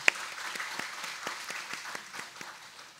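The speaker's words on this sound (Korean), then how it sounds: "우리 다시 한번 우리 찬양들 위해서 큰 박수로 경력 하나님께 영광 올리겠습니다." Congregation applause at a Korean church Wednesday prayer service, a steady wash of many hands clapping together throughout, with no voices over it.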